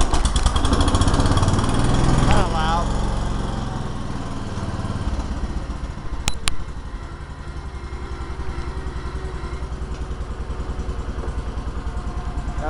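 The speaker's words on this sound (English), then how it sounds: "she sounds like she's got power" A 1971 John Deere 140 H3 garden tractor engine running loud and close, a steady throbbing small-engine drone with a brief clatter and shift in pitch partway through, then settling into an even idle.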